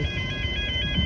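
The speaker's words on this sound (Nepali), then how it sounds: "अब यहाँ ट्रेनको सिग्नल तपाईँ सुन्न सक्नुहुन्छ।" A railway level crossing warning signal rings in a steady electronic tone with a rapid pulsing beat, loud and close over low traffic rumble.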